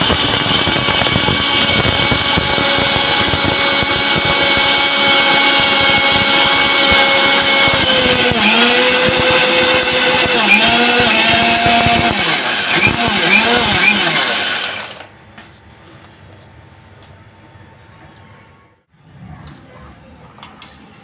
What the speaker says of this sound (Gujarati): હવે આપણે મિક્સર ચાલુ કરીશું.